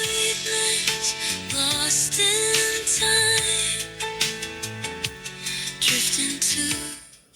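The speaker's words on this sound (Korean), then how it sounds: "유튜브에서 음악을 하나 재생을 해봤는데요" Music with steady rhythmic beats and melodic lines plays continuously through earphones plugged into a USB-C hub's audio jack, slightly thin and compressed, with no talking over it.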